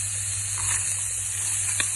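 Carrots frying in hot ghee for sabbakki carrot payasa give a steady, even sizzle and hiss, close and unbroken, with only faint incidental clatter.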